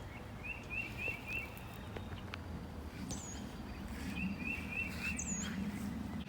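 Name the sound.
many birds chirping in the garden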